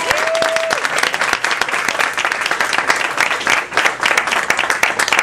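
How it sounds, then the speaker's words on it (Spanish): Loud, dense applause from a crowd honouring Rob Needleman at a bilingual team event, sustained clapping close up with a short electronic tone near the start and no talk. "So how about a big hand for Rob Needleman?"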